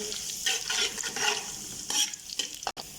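Onions brown in oil with whole spices in a pot for masoor rice. A loud, steady sizzle is broken by repeated scraping strokes of a stirring spoon, close up, with no talking.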